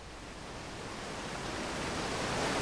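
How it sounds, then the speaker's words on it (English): A loud geyser in the video game Outer Wilds gives off steady rushing water, a broad continuous roar that builds slightly in strength, with no talk. "There's a loud geyser!"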